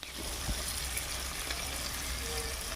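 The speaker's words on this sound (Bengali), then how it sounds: "তেলের মধ্যে ভেজে নেব।" Prawns frying in hot oil for a kalmi shak dish, giving a steady, soft broadband sizzle throughout with a faint stir or clink near the start.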